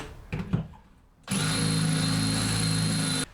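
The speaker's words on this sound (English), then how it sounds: "So I've got a masonry bit in my drill." After a couple of light knocks, a power drill with a masonry bit whines loudly and steadily for about two seconds, then cuts off.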